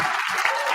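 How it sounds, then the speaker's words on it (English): A short burst of people clapping their hands at a casual Friday happy hour quiz night, a close and even patter of claps. "Everybody clap hands for Eddie"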